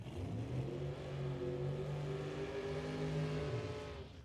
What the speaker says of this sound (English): The blown Camaro.